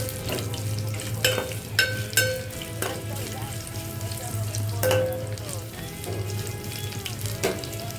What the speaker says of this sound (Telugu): వేయించి పెట్టుకున్న కాకరకాయలు వేసుకొని మంచిగా ఫ్రై చేసుకోవాలి.